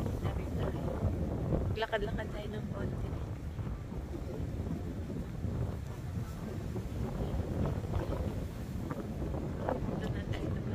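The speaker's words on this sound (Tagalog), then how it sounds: "Pero grabe palang hangin." Strong wind along the River Seine buffets the microphone with a constant low rumble and roar, while a person talks briefly over it during an afternoon walk.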